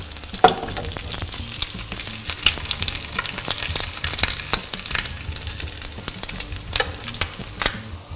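Venison burgers fry in bacon fat over high heat, giving a dense, continuous crackling sizzle with sharp pops, close and loud without talk.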